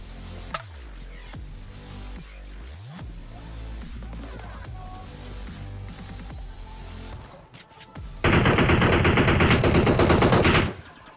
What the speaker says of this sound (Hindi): नीचे के साइड से गोलियां चल रही होती हैं।